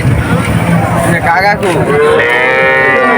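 Calves moo loudly and close by at a cattle market, a long drawn-out bellowing call filling the moment over a noisy crowd background.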